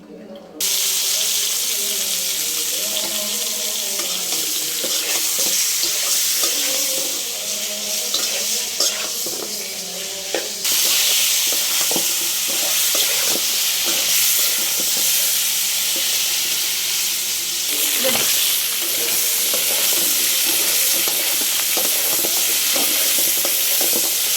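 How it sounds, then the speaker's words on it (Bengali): Chicken coated with turmeric, chili and salt sizzles steadily in a pan, frying lightly, with a constant hiss and occasional stirring scrapes. "তো মুরগিটা আমি ভাজবো, হালকা করে ভাজবো"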